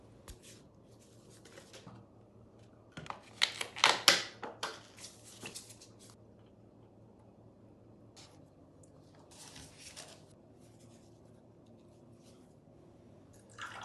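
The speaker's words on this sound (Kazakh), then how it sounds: "Ең бірінші термомикс чашасына қатық құямыз." Thick sour milk (qatyq) is poured into a Thermomix bowl in a quiet kitchen, with a short, soft splashy pour clustered in the middle and faint handling clatter around it.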